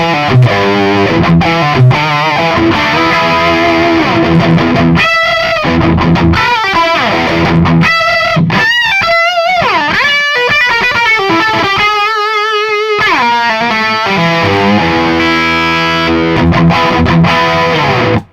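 An electric guitar played through a Metro-Plex amp with extra gain and a woody mid-range EQ, distorted chords and sustained riffs ringing loudly and continuously, with no talking.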